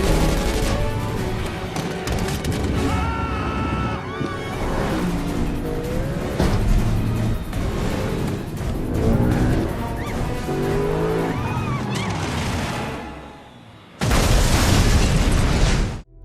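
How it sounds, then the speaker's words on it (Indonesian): In a car chase from a Jason Statham action movie, engines roar and tires screech under a loud, dense music score, with crashes and bursts. A brief lull comes before a final heavy impact as the car plunges into a ravine. "Frank berhasil mengecoh mereka hingga mobil tersebut terjun ke jurang"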